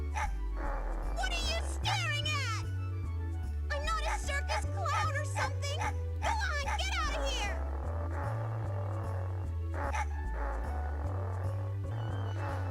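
Small dogs barking and yipping in the video game Mega Man Legends, in a town area, with repeated yaps over steady game music and chiptune-like tones, sounding close and continuous.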